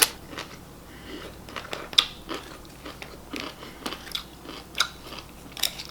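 Kimchi is chewed close to the mic in a mukbang, giving wet, crunchy bites repeated in an irregular rhythm, with sharper crunches standing out over a quiet background and no speech.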